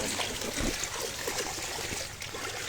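Fast-moving floodwater in Bangladesh rushes with a constant, dense, loud churning hiss and gurgle, steady from start to finish with no voices.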